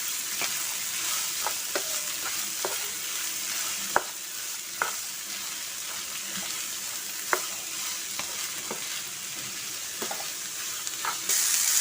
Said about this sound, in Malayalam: എന്നിട്ട് നല്ലപോലെ ഇത് ഇളക്കി കൊടുക്കാം.